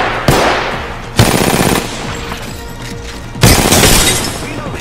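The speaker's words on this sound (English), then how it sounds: "Shield broke on that Pathfinder." Rapid automatic gunfire in Apex Legends, with bursts of shots and sharp crashing impacts as a Pathfinder's shield breaks, loud and close, with three heavy onsets spread across the stretch.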